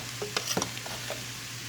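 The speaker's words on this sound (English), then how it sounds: "the noises you hear is me getting the rest of the rice out of the pot" A few scraping and clinking strokes of a utensil getting leftover rice out of a pot, close and fairly quiet, spread over a couple of seconds with no talking.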